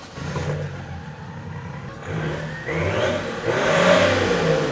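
A car with a 3.0-litre diesel engine revs up in rising surges, the engine note climbing and growing louder toward the end, heard alone without talk.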